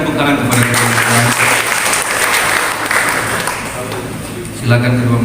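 Indoor applause from wedding guests for the newly blessed couple, a sustained crowd clapping that fades near the end as a voice comes back in.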